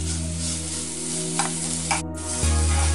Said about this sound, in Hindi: तो जब तक पूरी तरह वापस ये ड्राई ना हो जाए तब तक हमें इसे मिक्स करते रहना है